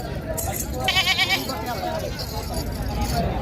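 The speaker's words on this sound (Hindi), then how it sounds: "जो बकरियां आई हैं मैं आपको वो भी चेक कराता हूँ" Goats bleating at a large livestock market, a few short nasal calls rising over a steady crowd babble and nearby chatter.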